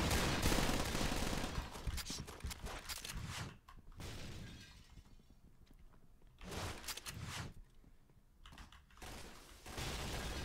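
Gunfire in the shooter game Point Blank: dense, crackling bursts of shots and shattering impacts that come and go in several waves, fairly faint and mixed with busy in-game noise.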